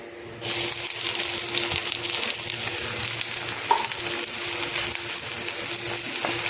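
Chopped garlic and ginger fry in hot oil with a close, steady sizzle. It starts abruptly after a short quiet moment and carries on evenly to the end.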